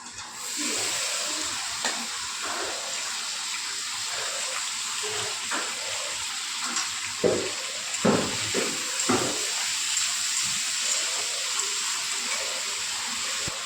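Potatoes frying in hot oil in a pan with tomato, capsicum and green chili added, producing a loud continuous sizzling hiss with intermittent bursts and crackles as the vegetables hit the oil.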